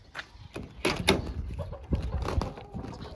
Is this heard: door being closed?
yes